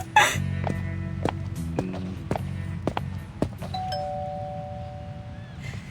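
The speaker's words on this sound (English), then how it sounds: "They take their last few steps up to the door and ring the bell." A doorbell rings at a front door in the video game Reverse: 1999, a chime ringing out over a low musical bed with scattered soft footstep thuds, several short sharp tones spaced through the moment.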